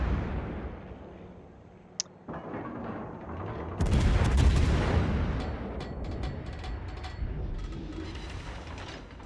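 Naval guns of the Des Moines cruiser in World of Warships fire a heavy salvo, a deep booming blast that rolls into a long rumbling roar, with faint crackles and distant thuds trailing after it.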